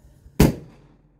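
A homemade calcium carbide gun fires once with a sharp, loud bang that rings briefly and fades, preceded by a faint click, with no voices during the shot.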